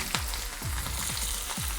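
Mustard seeds, cumin, garlic, onions and dried red chillies sizzle in hot oil for a tempering for raw mango dal, a loud close crackle broken by repeated sharp pops.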